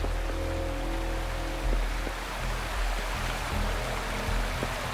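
A waterfall in the video game Wuthering Waves rushes as a constant broadband roar of falling water, loud and unbroken, with faint tonal game music underneath.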